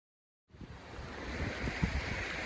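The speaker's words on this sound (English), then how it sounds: "Very windy day." Strong wind gusting on a coastal path near Bowness, rising after a half-second of silence into a steady, loud roar with heavy low buffeting against the microphone and a surf-like wash throughout.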